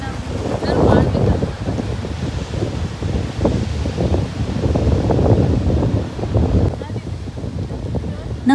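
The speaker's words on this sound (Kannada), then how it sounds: "ಸಮುದ್ರದ ಅಲೆಗಳು, ಗಾಳಿ, ಶಬ್ದ ಭಾಳ ಚೆನ್ನಾಗಿತ್ತು" Wind and sea waves at a beach, with steady broadband wind rumble and surf wash running continuously, fairly loud and close, with faint voices partly mixed in.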